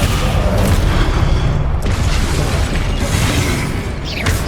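A Descendo spell impact in Hogwarts Legacy lands as a loud, sustained booming crash, dense and rumbling with a slight tail-off at the end.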